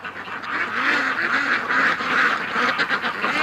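A flock of ducks quacks and honks continuously at moderate distance on a winter day, a busy overlapping chorus of calls outdoors.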